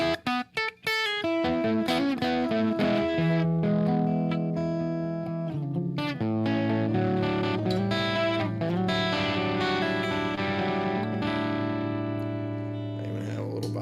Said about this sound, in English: That EF86, when you push it, gets really nice distortion.